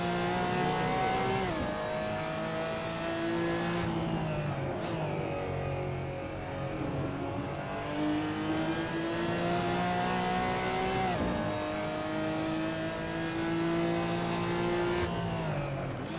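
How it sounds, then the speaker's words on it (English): Race car engine in third gear accelerating as the throttle is rolled on, a loud, continuous, close roar whose pitch climbs in repeated sweeps through each gear's rise, with no talking over it. "Stay in third, roll on the throttle now."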